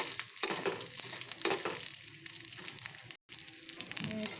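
Almonds, raisins and makhana cook in sesame oil in a pan with a dense, continuous sizzle and crackle and occasional stirring, broken by one brief gap of silence.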